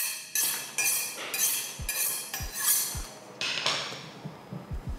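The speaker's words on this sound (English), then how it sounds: "let's sharpen our knife and get everything ready" A kitchen knife is sharpened by hand before cooking Korean army stew, giving a series of about eight crisp, metallic scraping strokes in a steady back-and-forth rhythm, close and clear with no talking.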